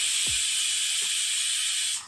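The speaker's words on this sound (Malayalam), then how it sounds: "മൂന്നാമത്തെ വിസിൽ വന്നു, ഞാൻ ഓഫാക്കി." Pressure cooker on the stove releasing steam through its whistle, a loud, steady rushing hiss lasting about two seconds before cutting off abruptly.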